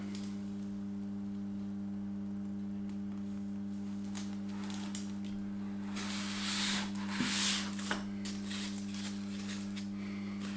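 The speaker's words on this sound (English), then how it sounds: "So I still need to do a lot of sanding" Soft scratchy rubbing of hand sanding a model medieval tower comes and goes over a steady electrical hum, growing louder in brief strokes toward the middle.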